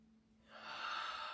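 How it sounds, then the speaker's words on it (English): A slow, soft breath during a yoga session, standing in mountain pose, is drawn in quietly and swells into a steady airy rush lasting about a second, close but faint, with no talking. "One more breath."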